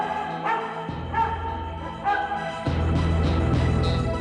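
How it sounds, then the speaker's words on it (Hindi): A dog barks outdoors at night near a village, several short barks spread through the stretch over a low rumbling background, with a steady, fairly loud level. "कुत्ता भौंक रहा है"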